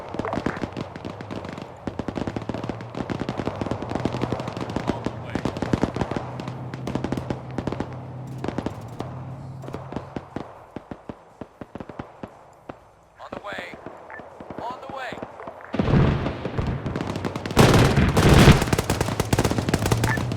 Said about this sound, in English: We get some kind of ZU gunfire